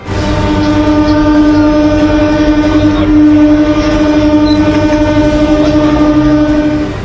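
A train rolls across the new Pamban railway bridge over the sea at Rameswaram, with a loud, continuous rumble and a steady horn-like tone held throughout.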